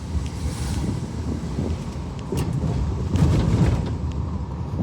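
A Nissan Elgrand E50 van fitted with new reinforced rear coil springs drives along, with steady road and wind noise, a low rumble and occasional knocks throughout.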